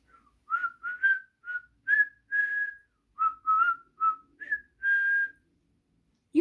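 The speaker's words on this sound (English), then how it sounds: "I can whistle a little bit, listen." A person whistles a short, bouncy melody of about a dozen clear tonal notes, some held longer than others, alone and fairly close, with brief pauses between phrases.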